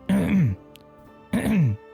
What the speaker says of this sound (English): he starts clearing his throat at you